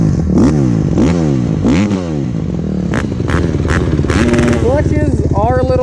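A 150cc dirt bike engine revs up and down in rising and falling sweeps, then settles into a fast, rattly, higher-pitched rev. It is loud and close.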